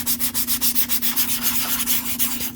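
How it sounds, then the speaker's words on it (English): Light rhythmic scuffing across a holster surface, a steady back-and-forth sanding rub heard close and alone. "we're going to lightly scuff"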